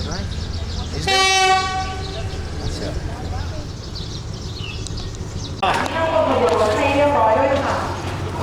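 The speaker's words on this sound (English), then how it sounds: "The train coming." A train in Thailand passes close by with a long blaring horn, then a heavy rolling clatter of carriages, while people talk nearby.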